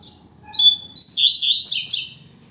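A double-collared seedeater (coleiro) sings up close, loud bright chirping phrases in a few quick bursts, with faint low background noise underneath.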